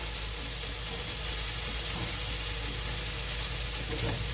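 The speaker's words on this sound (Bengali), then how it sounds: "সজনে ফুলটা গাওয়া ঘি দিয়ে ভালো করে নাড়াচাড়া করে নিচ্ছি।" Drumstick flowers fry in ghee in a pan, giving a dense, even sizzle and hiss that holds steady throughout at close range, with no voices.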